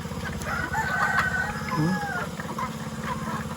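A rooster crows nearby in one long drawn-out call, set against a steady low mechanical drone with other birds faintly in the background.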